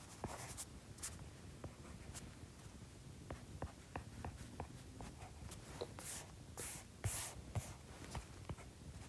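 Pen or marker scratching out math notation by hand, a faint, quiet sequence of short strokes and taps with small pauses between them, alone with no talking.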